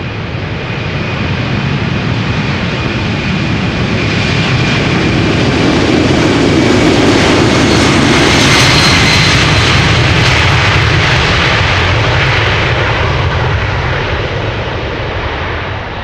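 An Air China Cargo Boeing 747, 29 years old, takes off from Amsterdam Schiphol with a loud, sustained jet roar that swells to a peak midway and holds steady, broadband and close, with no voices.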